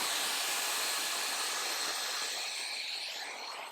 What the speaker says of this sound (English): I'm going to take my blow dryer and just make sure that this is completely dry.